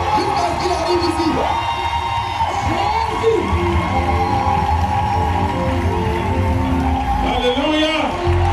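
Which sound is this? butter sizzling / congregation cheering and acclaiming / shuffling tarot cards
congregation cheering and acclaiming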